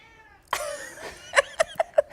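A cat gives one drawn-out meow, then a series of short, sharp meows in quick succession, close and fairly loud in a quiet room.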